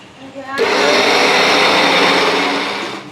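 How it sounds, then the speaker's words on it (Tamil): A kitchen mixer grinder whirs loudly and steadily as it grinds coconut, ginger and coriander, starting abruptly after a brief quiet moment and running continuously to the end. "கொஞ்சோண்டு கொத்தமல்லி போட்டு அப்படியே அரைக்க வேண்டிதான்"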